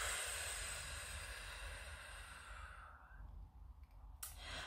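A slow, deep breath drawn in through the nose and released, soft and close, as part of a guided meditation, heard alone with faint steady background hiss and no speech.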